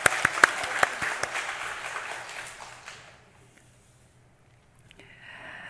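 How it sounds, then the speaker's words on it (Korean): Audience applause at a church service, a burst of claps with a few sharp loud hits that fades out after about three seconds, leaving near silence. "박수 한번 치겠습니다."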